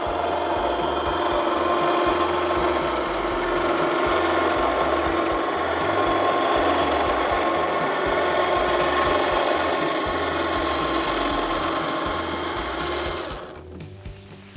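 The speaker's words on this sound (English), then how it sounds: "it's got a 12 volt winch motor in that operates the mechanism" A 12 volt winch motor on a South African canopy camper drives the automatic roof mechanism down, a loud, steady mechanical whir with ratcheting gear texture running continuously before cutting off near the end.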